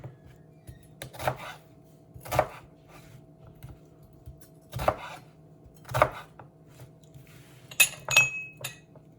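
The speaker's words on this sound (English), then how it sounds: "So we have our vegetables chopped up very quickly" Vegetables being chopped with a knife on a cutting board for a pasta and meatballs recipe, several sharp separate knocks spaced irregularly with quiet gaps, close and clear with no talking.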